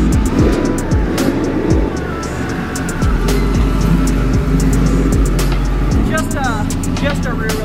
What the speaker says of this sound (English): Just a rear wheel drive STI.